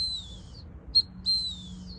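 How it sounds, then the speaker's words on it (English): A retriever training hunt whistle blows a long high note, then a short pip followed by another long tone, clear and close with no voices. "so you've got that short pip and then the longer whistle back into short pip, long whistle"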